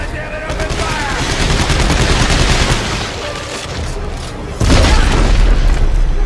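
Gunfire in Dead Space 3: loud, sustained bursts of rapid automatic shots with booming impacts, a brief lull, then a heavier, even louder barrage, all continuous and close.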